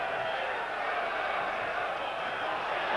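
Bruges football crowd in a stadium during a Club Brugge v Rangers Champions League match, a steady wash of roaring, murmuring spectators held at a constant level throughout.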